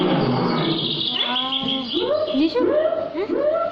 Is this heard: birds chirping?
yes